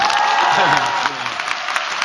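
Audience applause fills a talk by a Korean traditional music performer, a dense steady patter of many hands for about two seconds, with a voice briefly audible over it.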